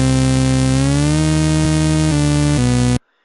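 A buzzy synth melody from an FL Studio piano roll in a dubstep/electronic beat glides upward in pitch, then steps through a few notes, loud and continuous before stopping sharply.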